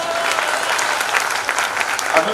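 Applause from the audience at a Hindi kavi sammelan poetry gathering, a dense continuous roar of many hands clapping, loud and sustained with a few faint voices underneath.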